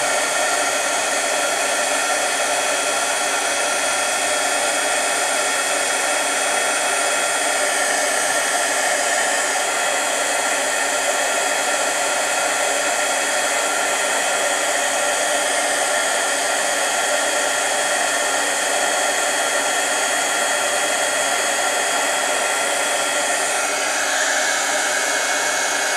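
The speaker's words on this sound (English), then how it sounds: "bring in my heat tool" An embossing heat tool blows hot air in one steady, loud, unbroken whoosh lasting the full stretch while a papercraft butterfly card is heated, with no speech.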